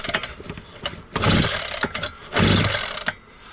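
An Alpina ABR 42 D petrol brush cutter, refitted with a Chinese replacement cylinder, fires up in two short bursts. The nearby engine revs loudly for about a second each time, then dies back, with mechanical clatter in between.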